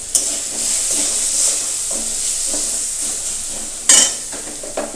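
Fried onion, garlic and spice powders stirred in a sizzling pan, a steady close hiss of frying broken by repeated scraping strokes of the spoon, with one sharper clatter toward the end.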